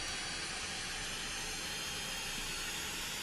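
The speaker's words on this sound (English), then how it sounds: "Sounds like a jet engine." A machine from the Minecraft nuclear tech mod, running at max power, gives off a continuous, even hissing roar like a jet engine, fairly faint and unchanging throughout, with no voices.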